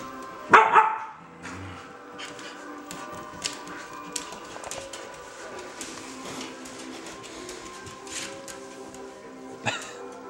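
A puppy lets out one loud, sharp bark near the start, then scattered small clicks and shuffling follow, with another brief yelp near the end.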